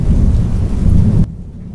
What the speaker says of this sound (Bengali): সেদিনকেও কিন্তু ঠিক এইরকমই বাইরে হালকা বৃষ্টি পড়ছিল।